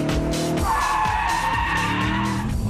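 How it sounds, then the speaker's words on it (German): Tires of an Audi RS4 squeal hard while cornering under heavy understeer, a sustained high screech layered over a loud engine drone, continuous and close for a few seconds. "Schon nach wenigen Metern winseln die Reifen um Gnade"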